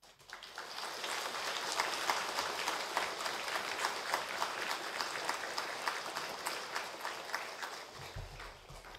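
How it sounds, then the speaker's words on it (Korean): A church congregation gathered for a special early-morning Thanksgiving prayer service applauds to welcome the pastor, a dense, even patter of clapping from a large crowd that fades in and holds steady, heard from a distance. "목사님 나오셔서 말씀 전해 주실 때 큰 박수로 환영해 주시기 바랍니다"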